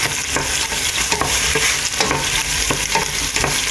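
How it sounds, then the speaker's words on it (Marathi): Tomatoes and green peas are stirred in a frying pan, with a loud, close, constant sizzle broken by repeated scraping strokes of a spoon. "तो ग्रीन पीस घालता आनी दिता बरो मिक्स."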